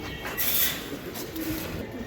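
Racer pigeons on a farm coo softly in a low, rolling drone, with a slightly louder swell partway through and faint higher chirps above the steady murmur.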